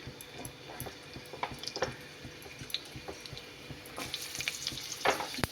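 Pumpkin, potato and bitter gourd pieces tipped into a pan of hot oil with reddened dried chillies, giving a dense crackling sizzle with scattered squishy splatters and clinks that swell louder near the end.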